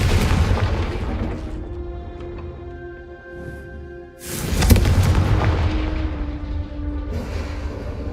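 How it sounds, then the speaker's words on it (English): A Confringo fire spell in the Hogwarts Legacy video game bursts with a deep booming blast, the first rumbling rush fading before a second heavy explosion hits loudly and rolls on. "a Confringo cast travels a bit farther than that of a spell like Incendio"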